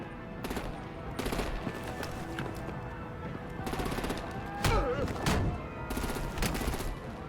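Bursts of rapid machine-gun fire rattle in Batman: The Enemy Within as artillery targets vehicles, several fusillades spaced through the scene at moderate distance, with brief voices and clatter between volleys.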